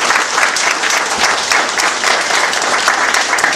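An audience at an Orthodox Christian gathering breaks into loud, dense applause, a continuous close wash of clapping that holds steady throughout.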